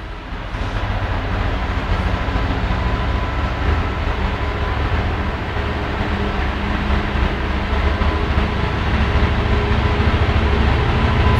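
A Freightliner Class 66 diesel locomotive, number 66526, passes through Lincoln Central station, a steady loud rumbling roar with clattering wagons that holds constant and close for the whole stretch.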